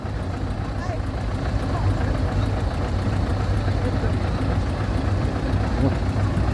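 A vehicle engine runs steadily at a low idle-like rumble as it starts to move, a constant close drone filling the whole stretch.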